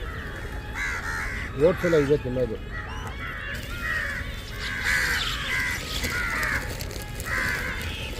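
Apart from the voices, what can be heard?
crow cawing while coming to eat oats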